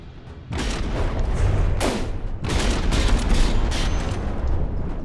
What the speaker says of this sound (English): Okay, some good volley it seems.